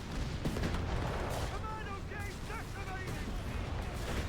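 Artillery fire in a 2v2 tournament match of a World War strategy game, with infantry squads nearby: a dense, continuous rumble of booms and gunfire under faint chirping effects, steady and fairly loud throughout with no clear separate shots.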